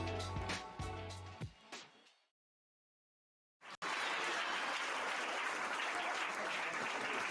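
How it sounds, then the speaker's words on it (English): Canned applause from a soundboard follows a musical passage that fades into a brief silence. Then a dense, loud burst of crowd clapping and cheering sets in abruptly and holds steady to the end at an awards show for game development students. "before anybody gets too worried about the applause that you're hearing"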